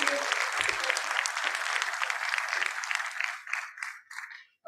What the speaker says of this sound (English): Can we welcome ma'am with a huge round of applause,